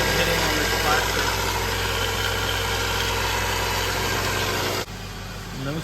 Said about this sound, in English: Alright, test start was a success.